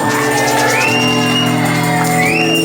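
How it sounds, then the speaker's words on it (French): A church congregation shouting hallelujah during a sermon, loud overlapping cries and whoops from many voices rising together, with a sustained tonal backing beneath. "Quelqu'un peut crier Alléluia."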